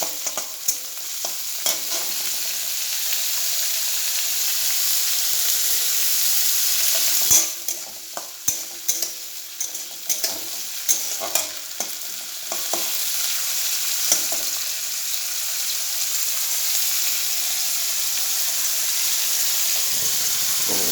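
Carrot and egg with vegetables fry in a wok with a steady close sizzle, broken midway by a run of sharp scraping stir strokes before the hiss settles again.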